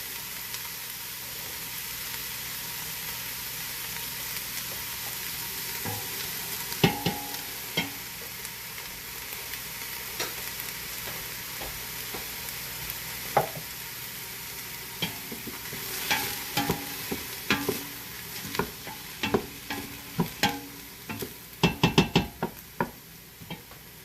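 Onions sweating and sizzling in a pan for Colorado-style green chili, a steady soft frying hiss with occasional stirring knocks and scrapes growing more frequent toward the end, close and moderately loud with no talking.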